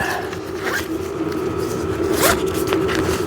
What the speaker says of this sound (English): And then this is where you have your zipper compartment.